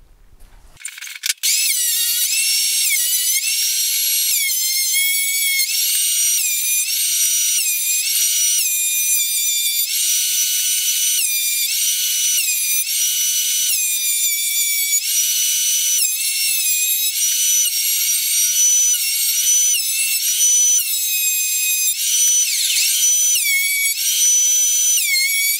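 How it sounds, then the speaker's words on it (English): A thicknesser with dull blades planes guitar wood, giving a loud, steady high-pitched machine whine that runs without pause after a brief start. "I'm going to break out my thicknesser and start to get this cleaned up"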